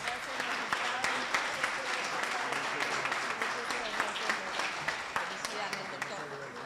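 Applause from an audience for speakers at a law congress on surrogacy, a steady wash of many hands clapping at moderate distance, continuous throughout with no pauses.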